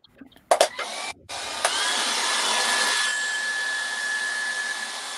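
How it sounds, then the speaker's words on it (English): A handheld blow dryer runs steadily for several seconds close by, drying a layer of paint on a painting of a human eye, with a couple of sharp clicks and a brief cut as it starts. "It needs to dry. So I'm going to use my blow dryer."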